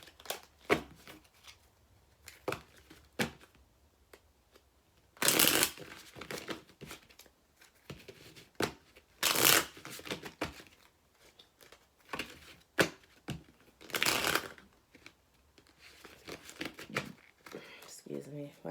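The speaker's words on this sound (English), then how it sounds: "Let me pick up these cards here." Tarot cards are handled and shuffled during a personal card reading: several loud, brief riffling bursts stand out among softer rustles, close to the listener.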